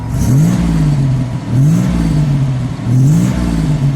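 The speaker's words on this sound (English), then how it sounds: "Let me just listen to it. All right, give it a rev, Andy." A 1987 Buick Grand National engine revved close up in three strong throttle blips, each rising and falling back toward idle, loud with a low rumbling tone.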